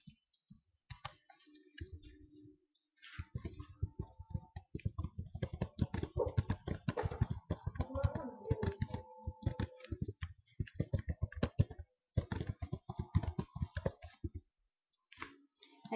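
Rapid clicking of keys on a computer keyboard, close by, in irregular bursts with short pauses between them.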